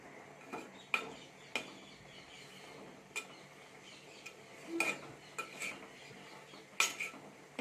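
A metal spoon stirs drumstick greens in a pan, producing sharp scraping clinks at an irregular rhythm, close and fairly clear over a quiet background.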